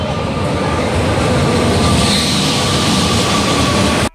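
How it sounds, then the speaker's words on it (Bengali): A train rolling into a railway station on the way to Nabadwip, with a loud, steady rumble and rail noise that continues throughout before cutting off abruptly. "চলো, ট্রেন আসুক"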